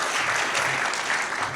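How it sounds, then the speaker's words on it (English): Audience applause at an award ceremony honoring a medical missions organization, a dense, steady wash of clapping from a crowd that holds continuously at full level. "Give yourselves a round of applause, please."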